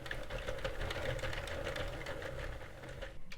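Sentro or Addi plastic knitting machine carrying yarn through a row, giving a continuous, rapid mechanical clatter of ticking needles at an even pace, close by and with no speech, cutting off at the end.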